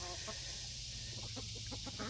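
Chickens clucking softly outdoors, a handful of short, separate clucks growing more frequent toward the end, over a low steady background hum.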